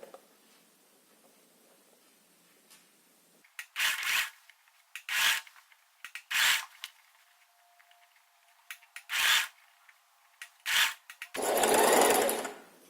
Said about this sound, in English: sew until the place where the two seams meet. And secure the stitch.